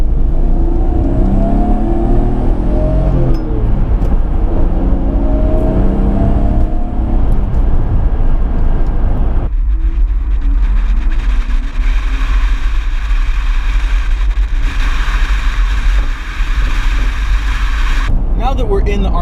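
A 1992 Nissan Skyline R32 GTR with a twin-turbo inline-six, driving with a loud steady engine drone and some shifting and pulling, heard from close up, with a change in the tone about halfway through.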